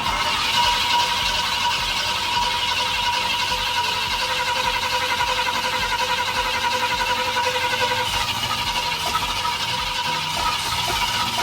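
The engine of a 1971 Ford F-250 cranks and churns loudly and continuously up close, with no break or change in pace.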